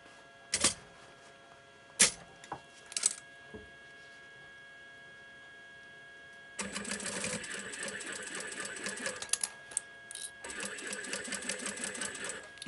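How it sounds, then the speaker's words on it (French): Sewing machine stitching recycled denim for a zippered pouch, a few isolated clicks and thumps first, then a continuous rapid mechanical whir of stitching that briefly pauses and resumes. "Et vous voyez qu'on est toujours en train de coudre"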